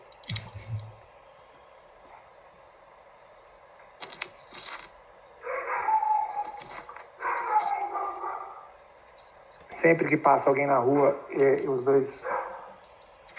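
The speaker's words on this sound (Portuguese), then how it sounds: "os dois cachorros que nós temos aqui, eles ficam latindo" Two dogs at a house bark in two separate bursts of rapid, overlapping yaps, somewhat muffled and a little distant, with quiet gaps between them.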